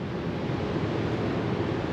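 Sea waves wash steadily below a hotel balcony in Haifa, a continuous broadband hiss of surf blended with wind against the microphone, with no voices.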